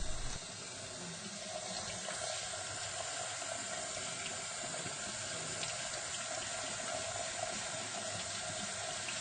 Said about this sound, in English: It's time for another rinse and drain.